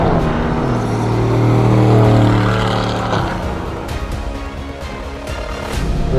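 A sports car engine roars, then drops through gears with quick blips as it slows, the exhaust note falling and crackling, loud and near.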